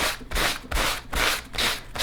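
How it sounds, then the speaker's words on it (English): A sanding block rubs back and forth over a pewter surface, sanding off patina in steady, rhythmic strokes, about five gritty passes, close and clear. "sand off the patina on the surface of the pewter"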